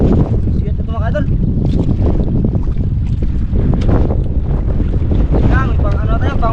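Strong wind buffets the microphone outdoors on a small fishing boat at sea, a loud continuous roar with waves and water noise beneath, while people talk over it.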